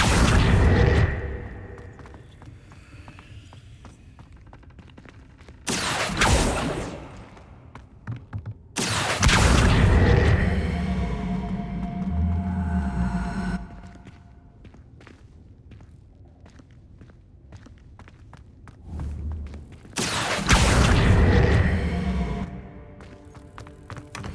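Explosion blasts from the Confringo spell in the video game Hogwarts Legacy, several loud booming bursts separated by quieter stretches of ambient game sound and footsteps.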